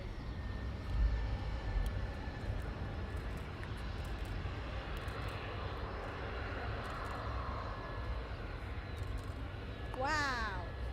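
A Blackburn Buccaneer jet taxis out, its engine a steady, broad roar heard from a distance that holds for the whole stretch and swells slightly near the end, with a brief rising whine and faint voices nearby.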